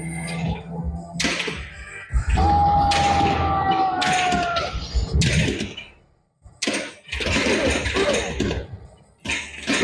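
A pinball ball is released and rattles through the machine, with a string of thuds, knocks and mechanical clatter, a brief rising electronic whine, and a short pause before more busy clacking.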